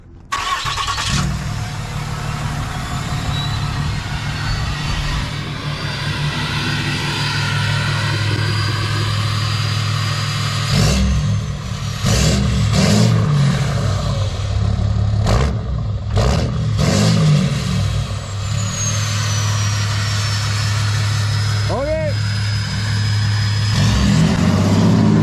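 A 6.7 Cummins diesel truck engine with a straight-pipe exhaust fires up and idles loud and close, with a deep steady rumble and a few sharp revs along the way.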